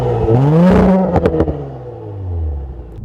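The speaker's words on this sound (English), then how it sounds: "you can also get sport exhaust when you put it into sport mode or go into dynamic" A 2018 Audi S5 Sportback engine in sport mode revs up sharply and then settles, with crackles and pops from the sport exhaust before the note drops away; nobody speaks.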